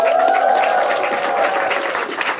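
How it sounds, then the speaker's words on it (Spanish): Applause from the crowd at the fourth anticapitalist youth camp of Ya Basta in Argentina; loud, dense clapping and cheering, continuous and close, with a raised voice briefly over it. "El aplauso es para todos ustedes"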